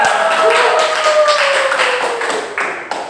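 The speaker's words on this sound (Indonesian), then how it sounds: "Tepuk tangan semuanya." Classroom applause during a microteaching session, a dense steady patter of many hands clapping at close range, loud at first and thinning out toward the end.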